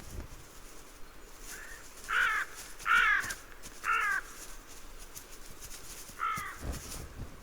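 A crow in an alpine wilderness caws in a short series of four harsh calls, three close together and one after a pause, over faint steady outdoor background.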